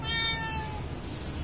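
Timmy the cat gives one drawn-out, fairly loud meow close by indoors, trailing off into quiet room noise.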